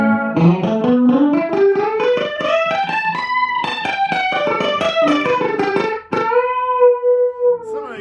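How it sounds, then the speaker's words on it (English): Electric guitar run through a Roland GP-8 rich chorus patch plays a rising lead phrase with a wide, doubled, roomy shimmer, ending on a held bending note, loud and without speech. "Real rich chorus."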